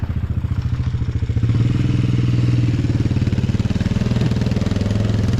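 A small motorbike engine runs steadily nearby with a fast, even putter, rising slightly in pitch and volume partway through and then holding, loud and alone.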